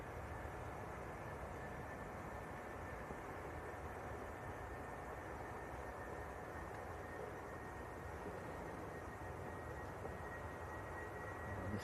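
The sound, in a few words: British Airways airliner on its takeoff roll at Manchester Airport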